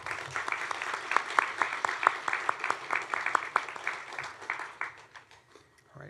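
Audience applause fills an awards banquet hall for a science and mathematics senior honoree, steady dense clapping that swells and then tapers off near the end.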